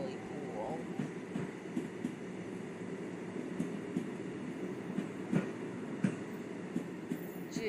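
A train in the Train Sim World 2 London commuter simulation rumbles past with steady reverberant rolling noise and periodic clicks of wheels over rail joints, under someone talking.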